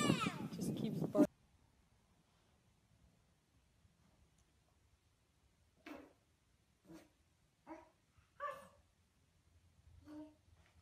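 A husky barks in short, separate bursts at moderate distance, about five barks spaced a second or so apart in a quiet room, after a brief stretch of louder noise at the start.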